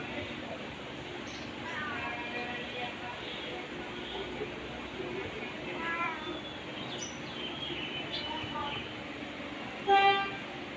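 A weak, thin cat gives a few short meows, faint and spaced apart, over a steady background hum with some voices around.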